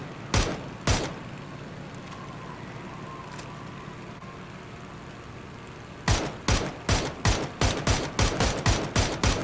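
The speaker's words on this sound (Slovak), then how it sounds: "Kde strieľaš teraz?" Gunfire in a PUBG duos match: two sharp shots open the clip, then a quiet stretch of low ambient hum, then a rapid string of about a dozen loud, evenly spaced shots.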